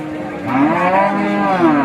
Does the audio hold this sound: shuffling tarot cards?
no